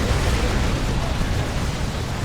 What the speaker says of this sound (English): being battered around by a creeping barrage